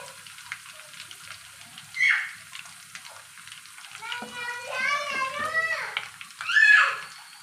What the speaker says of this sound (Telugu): గైస్ అలాగే కరేపాకు కూడా వేయాలి.